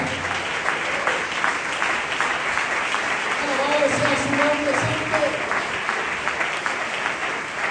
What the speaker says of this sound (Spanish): Un aplauso al Dios de la Biblia